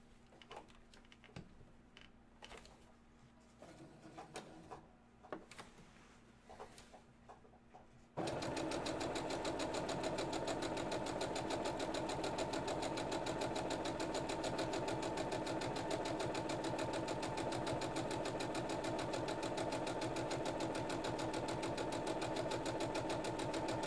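A sewing machine stitches a bow-tie seam, starting after about eight seconds of quiet handling noises and then running as a steady, fast mechanical chatter at close range until the end, with no talking.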